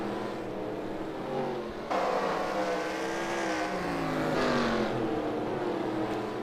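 Race cars lapping a dirt oval at a Chili Bowl race, a continuous roar of engines that swells and fades as cars pass by, heard from a distance with steady broadband noise.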